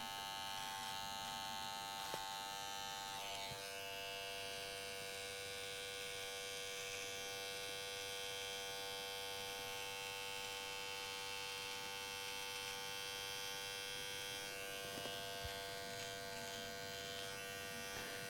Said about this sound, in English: we're shaving into the hairline